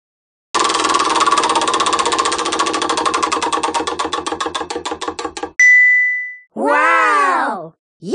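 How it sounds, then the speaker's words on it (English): Prize wheel spinning in a PBS Kids fair game: a rapid run of clicking ticks that gradually slows, followed by a sustained chime tone and a bright rising-and-falling jingle. "Spin the wheel! Watch it go! Where will it stop?"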